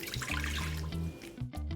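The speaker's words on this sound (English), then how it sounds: "All you need to do is put in the rack, add 1 cup of water," A cup of water poured into a pressure cooker, a short splashing, gurgling pour lasting under two seconds, with a low tonal hum beneath it.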